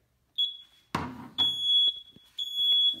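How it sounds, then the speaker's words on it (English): A Simplex 4007ES fire alarm horn set off by a heat detector sounds in repeated loud, piercing electronic tones. A brief clatter breaks the pattern, and there are short gaps between the blasts. "So this one's programmed to set off the horn."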